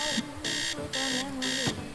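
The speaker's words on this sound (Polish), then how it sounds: "Co to za budzik?" An alarm clock in the video game Teardown rings in a rapid repeating electronic beep pattern, four bursts in two seconds, fairly faint, with a voice briefly audible.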